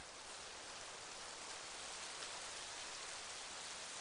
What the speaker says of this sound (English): The rain effect is like really nice rain.